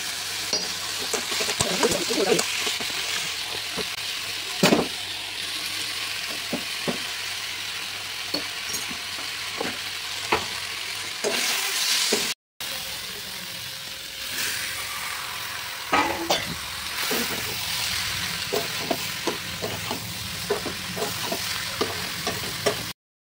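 Cumin seeds fry in hot oil for a bean and potato curry, a steady close sizzle with occasional stirring scrapes and clinks, continuing through a brief break midway.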